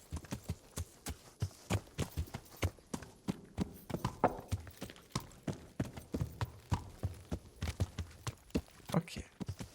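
Horse hooves clip-clop at a steady walking pace in the medieval video game Kingdom Come: Deliverance, a continuous series of close, distinct thuds lasting several seconds, with no one talking.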